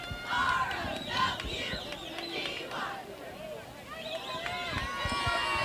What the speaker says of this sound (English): Y'all can hear the cheerleaders now.